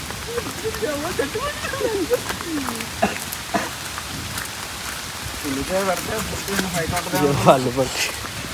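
Steady rain falls outdoors in a village during a bamboo chicken cook-out, a broad hiss with a few sharper drops, while several people talk loudly over it.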